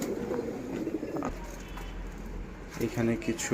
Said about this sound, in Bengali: ব্রিডার কবুতর আছে, এরাও খাবার খাচ্ছে, খেতে থাক।